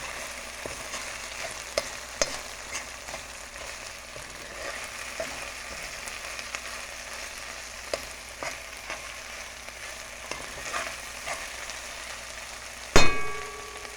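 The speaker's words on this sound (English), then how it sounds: "I'm just right here cooking it, frying it, and then I'm gonna throw in the rice." Vegetables and fish crackle and sizzle steadily in a pan, with occasional light clinks of a utensil and a louder metallic clang near the end.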